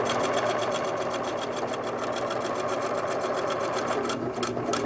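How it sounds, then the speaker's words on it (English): A sewing machine stitches straight lines across a quilt, a steady close, even mechanical whir with rapid needle pulses running without a break from start to finish. "As you continue sewing and getting farther into the center of the quilt"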